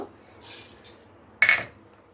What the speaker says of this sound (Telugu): ఇప్పుడు నేను మిక్సీ బౌల్ చిన్నది తీసుకున్నాను